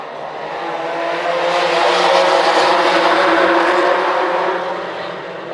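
Stock and super stock 4-cylinder race cars roar past together at Shangri-la II Motor Speedway, a loud engine drone that swells as the pack nears and fades slightly as it moves on.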